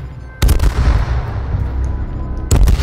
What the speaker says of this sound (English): Watch it. Grenades at you.